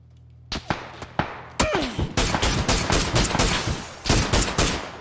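Gunfire in PUBG: several sharp single shots, then a dense run of loud, close bursts and rapid shots that continue to the end, with brief gaps between volleys.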